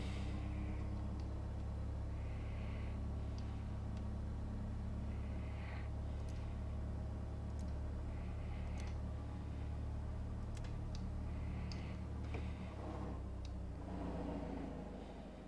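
A Piper Cherokee engine held at 1000 RPM in a flight simulator: a steady, even low drone with a constant hum, continuing without break and no talk over it.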